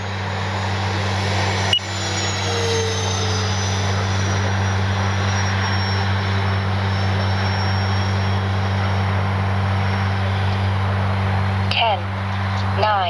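An RC OV-10 Bronco model plane, a twin-engine warbird, flies overhead with a steady, loud propeller drone throughout under a voice calling out flap and gear commands.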